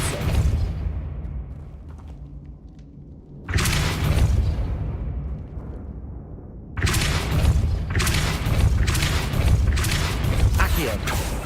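Depulso force-push spell effects in Hogwarts Legacy: two loud, broad whooshing blasts that each ring on and decay, over a low ambient game rumble.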